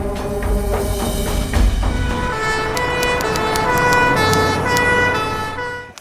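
A loud ambulance siren wails steadily and close by, its rising and falling tones sustained for several seconds over low road rumble before cutting off abruptly, with no voices.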